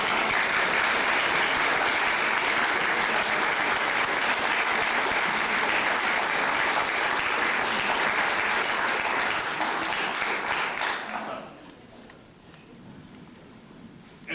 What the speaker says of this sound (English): I would like our faculty and the students to rise briefly and applaud the members of the audience